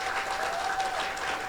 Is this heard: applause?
yes